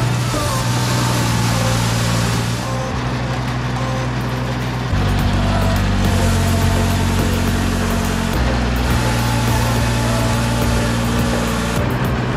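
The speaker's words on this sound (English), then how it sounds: "I'm gonna go get the tractor ready" A Kubota BX2380 compact tractor's diesel engine idles close by, a steady low rumble that shifts pitch slightly a few times, with no talking.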